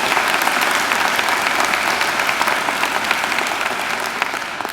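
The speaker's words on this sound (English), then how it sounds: "I think she deserves another great round of applause." A graduation ceremony audience gives singer Angela a loud, sustained round of applause, many hands clapping densely and continuously in a large hall.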